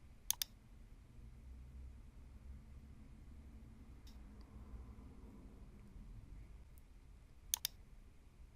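A few sharp, quiet computer mouse clicks come as paired taps near the start and again toward the end, above a steady low background hum, with no talking.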